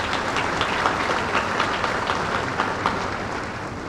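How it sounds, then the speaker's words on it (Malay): Thunderous applause from a large crowd at an army day parade fills the air, a steady dense wash of clapping with no pause. "Berikan tepukan yang gemuruh kepada mereka."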